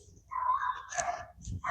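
Dogs barking outdoors on a farm plot where onions are being planted, a few sharp yaps and whimpery calls close by, no voices.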